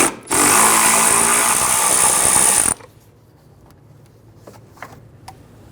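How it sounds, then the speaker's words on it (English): Power tool, likely an impact driver or ratchet, loosening a 10mm bolt on a 1999-2004 Jeep Grand Cherokee behind the fender liner, a loud continuous whirring burst of about two and a half seconds followed by quiet clicks and handling noises. "Loosen and remove that one as well."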